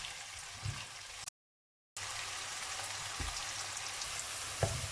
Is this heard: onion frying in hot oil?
yes